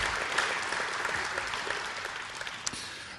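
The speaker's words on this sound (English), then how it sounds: "Let's have another round of applause for Rick and also our other speakers this morning." Sustained audience applause fills a conference room after a keynote at a regional economic outlook event, a steady dense wash of many hands clapping throughout with no talk over it.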